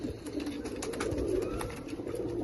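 Teddy pigeons cooing steadily at close range, a soft, continuous low murmur with repeated rolling coos and no talk over it.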